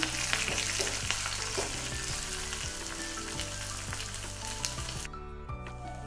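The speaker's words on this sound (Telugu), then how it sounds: "త్వరగా వేగనివ్వండి తాలింపుని." Steady, loud sizzling of a tempering of onion, curry leaves and asafoetida frying in hot oil, with occasional clinks of stirring, no voices.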